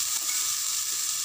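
A chana dal rice mixture sizzles steadily in a pan while being stirred, giving a close, even frying hiss with no pauses.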